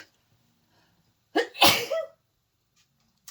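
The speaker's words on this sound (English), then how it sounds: "I think I'm going to sneeze" A single loud, close sneeze bursts out after a short breath in, standing alone in an otherwise quiet room.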